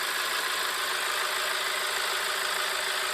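A newly installed inboard engine on a sailboat runs at a steady idle, a loud, continuous mechanical drone with a low throbbing pulse and no voices.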